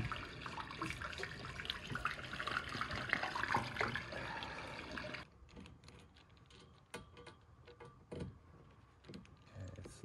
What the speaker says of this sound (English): That's why you can hear flowing water.